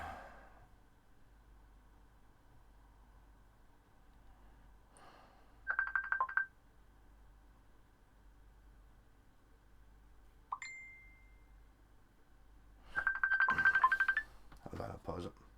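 A telephone rings with an incoming call in a quiet room, sounding as a few separate short bursts spread across the stretch, moderately loud and near, with a low steady hum underneath.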